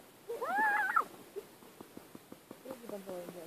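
A cat gives one clear, fairly close meow, followed by soft scattered clicks and quiet indistinct voices in a home setting.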